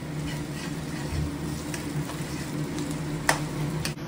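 Onions fry in hot oil until light brown, a soft continuous sizzle broken by a few sharp clinks of stirring near the pan.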